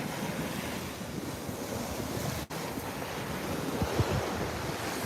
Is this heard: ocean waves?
yes